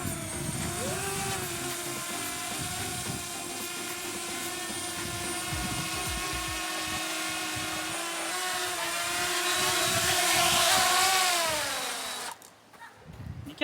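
A DJI Mavic Mini drone lifting off from grass gives a steady, loud, high-pitched propeller whine whose pitch slides and rises near the end before cutting off abruptly.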